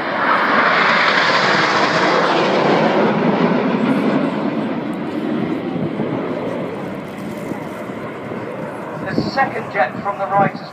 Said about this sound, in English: The four aircraft on the wings will now drop back to be alongside Red 7, this is Concorde.